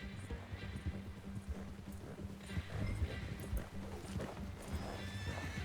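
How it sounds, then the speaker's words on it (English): Horse galloping in Red Dead Redemption 2, rapid steady hoofbeats throughout with whinnying and faint game ambience, moderately quiet, no talk. "Run! Horsey, run!"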